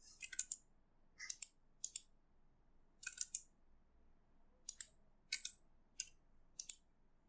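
Computer keyboard and mouse clicks in stock-charting software, sharp crisp clicks and short clusters of taps spaced irregularly over a quiet background, close and distinct.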